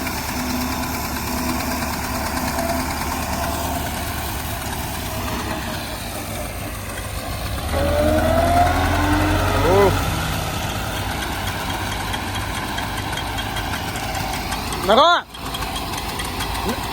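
Tractor engine, an MTZ 920 or Zetor 7245, running steadily at a low rumbling idle with a brief rise in revs midway, while people talk over it in the background.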